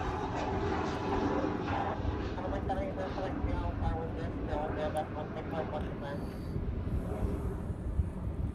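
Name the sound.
heavy aircraft flying past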